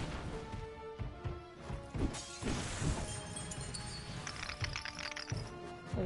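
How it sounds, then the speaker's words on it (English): Objects shatter and crash in the PlayStation 4 game Knack as things are smashed apart, the glassy breaks and heavy whacks tumbling over one another in a busy, continuous series. "Oh, smashing all up."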